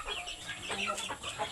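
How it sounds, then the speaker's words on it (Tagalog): Chickens cluck in short, busy bursts at moderate distance in an outdoor rural yard, with a faint background hum. "Dagan iya manok."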